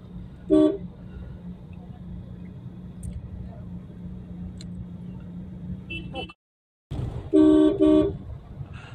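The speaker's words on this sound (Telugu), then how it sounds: "మొత్తం ట్రాఫిక్ జామ్ అవుతా అంతా కూడా" Heavy road traffic on a jammed street in Hyderabad, near Shaikpet, with a steady low engine rumble and two loud bursts of car horn honking near the start and end; voices talk over it.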